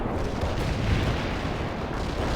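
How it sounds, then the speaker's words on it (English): Artillery barrage in the World in Conflict strategy game, a dense continuous rumble of overlapping explosions with no clear gaps, loud and steady throughout. "Artillery strike on the way. Commencing the barrage."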